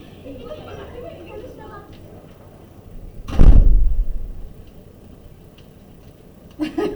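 A classroom door swings shut with one loud thud against faint hallway chatter, followed by a quieter knock moments later.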